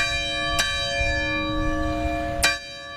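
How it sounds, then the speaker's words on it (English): Church bell in Uvalde, Texas, ringing in remembrance: two distinct, resonant strikes about two seconds apart, each leaving a long sustained hum that lingers between them. "That church bell in Uvalde, Texas, rang 21 times today to remember the victims"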